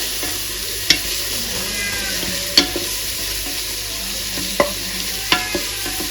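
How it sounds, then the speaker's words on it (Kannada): Onions with cinnamon and cloves fry in a pan for tomato bath, a continuous close sizzle broken by four or five sharp spoon knocks and scrapes against the pan, no talking. "ನೀರುಳ್ಳಿ ಫ್ರೈ ಆಗಬೇಕು ಚೆಂದ ಮಾಡಿ."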